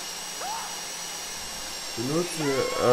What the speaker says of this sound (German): Der Bohrer geht jetzt wieder weiter weg.